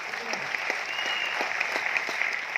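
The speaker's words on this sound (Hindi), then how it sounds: "ताली जोरदार।" A seated audience at a direct-selling business meeting claps steadily, even crowd applause carrying on throughout.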